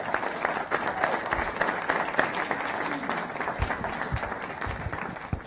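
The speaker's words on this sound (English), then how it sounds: "let's give our paraprofessionals a round of applause" A large event audience in Atlanta gives a round of applause honoring paraprofessionals, a steady, dense wash of many hands clapping at moderate loudness, with a few sharper individual claps standing out.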